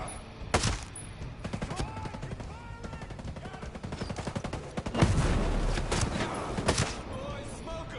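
Dense video game gunfire from Ghost Recon Breakpoint, automatic bursts and sharp shots rattling continuously over a shouting voice.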